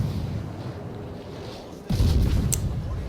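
Naval gunfire from a World of Warships battle: a low rumbling background, then a sudden loud booming volley bursts in partway through and rolls on with a sharp crack shortly after.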